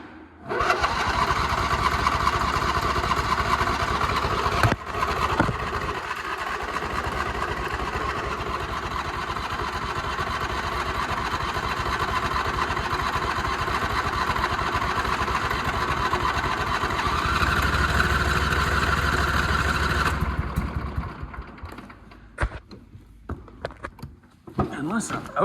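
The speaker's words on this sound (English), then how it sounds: "Alrighty, let's try her again." A John Deere lawn mower engine runs steadily at a loud, close idle with a rough mechanical drone, a sharp click near five seconds, then cuts out around twenty seconds, leaving scattered clicks and handling noise.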